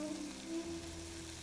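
Carrots cooking with butter and Southern Comfort sizzle in a pan, a steady, close frying hiss holding evenly through the short moment with no talk over it.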